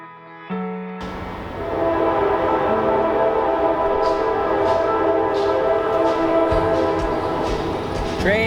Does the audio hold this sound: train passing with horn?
yes